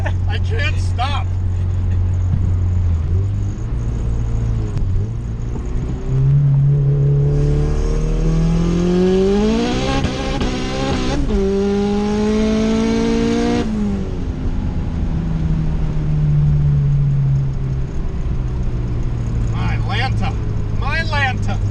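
A Honda car engine with Camaro fuel injectors revs hard through third gear, its tone climbing steeply, dropping, then rising again. The engine sounds loud and close, with brief voices at the start and end.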